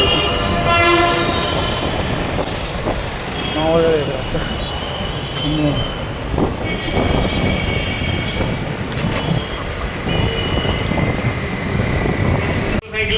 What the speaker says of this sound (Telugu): railway station